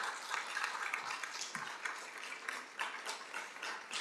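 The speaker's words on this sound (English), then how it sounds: "Go ahead and give them a round of applause." Audience applause for a panel of forum speakers at a racial justice event, a steady wash of many hands clapping at moderate loudness, continuous for the whole stretch with no voices over it.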